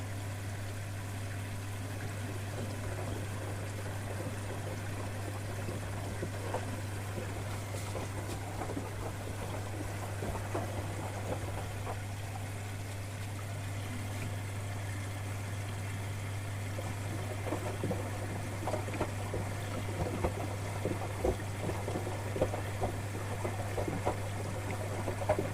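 Water flows steadily inside a washing machine on its rinse cycle as fabric softener runs through, a continuous watery wash over a strong low motor hum, with no talking.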